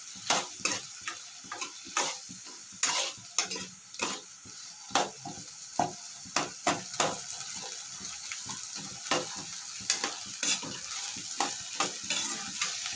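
Bottle gourd sautés in a pan for chutney, a close, steady sizzle broken by regular scraping and clinking strokes of a stirring spoon against the pan.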